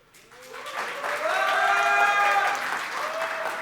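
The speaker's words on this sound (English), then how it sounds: "Biggest applause for that so far." Applause swells from the audience at the 2017 Redmi 4 and Mi Router 3C product launch in India, rising from quiet to a full, loud burst of clapping mixed with cheering voices that then holds steady.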